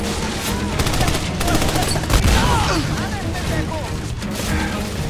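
Gunfire in the video game Army of Two: The Devil's Cartel, a steady clatter of rapid shots and bursts running throughout with a heavier boom near the middle, mixed with game sounds and talking voices.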